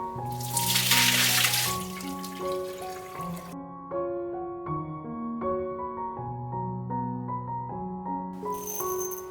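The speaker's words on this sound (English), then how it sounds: "Scald the konjac by hot water to remove odor." Hot water splashes and pours over konjac pieces for about two seconds at the start, followed by steady melodic music that carries on alone.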